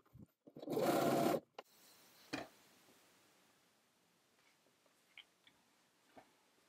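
A sewing machine runs a short, loud, fast burst of stitching along a dress neckline that has a basting stitch in it, then stops, leaving faint scattered ticks and clicks in a quiet room.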